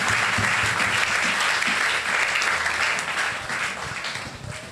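A church congregation at a Sunday service bursts into loud, sustained applause for the word of God, dense clapping filling the room and tapering slightly toward the end.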